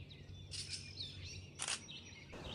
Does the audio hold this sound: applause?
no